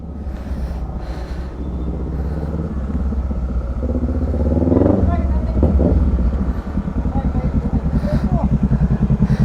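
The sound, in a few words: Kawasaki Ninja 650 2022 motorcycle accelerating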